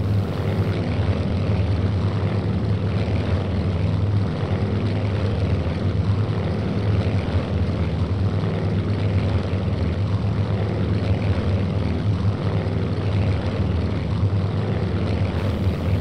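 Propeller engine drone of Douglas A-1 Skyraider attack aircraft, roughly 2,700–2,800 horsepower, in the Vietnam-era flight game Strike Fighters 2, a steady deep rumbling hum holding at constant loudness throughout with no talk.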